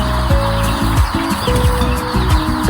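Many chickens at a poultry farm in Surkhet, Nepal, cluck and squawk in a dense, continuous chorus, with overlapping calls close by and no talking.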